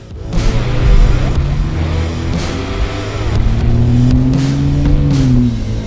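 Jeep Wrangler JL fitted with many lights drives off, its engine revving up and rising in pitch as it pulls away, loud and close throughout.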